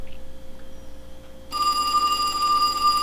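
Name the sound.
telephone ringing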